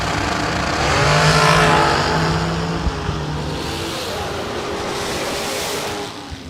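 Drag race pitting a Hemi Hellcat against a shorty, loud engine roar building to a peak then holding steady as the cars run, with no talk over it.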